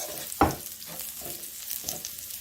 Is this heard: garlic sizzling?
yes